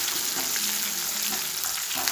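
Curry leaves sizzling in hot oil in a clay pot for a drumstick-leaf and jackfruit-seed curry, a steady close bright hiss with a few crackles and no talking.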